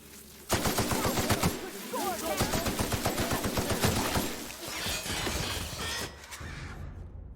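Rapid bursts of plasma launcher fire from The Outer Worlds video game, a dense run of repeated weapon shots lasting several seconds with crackling impacts, loud and close.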